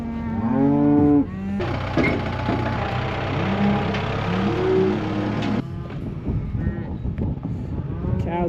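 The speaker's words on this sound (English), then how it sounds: "Cows will follow the hay down there." Cattle being fed hay on a farm moo loudly and repeatedly, long drawn-out calls close by, with a tractor engine droning steadily underneath for much of the time.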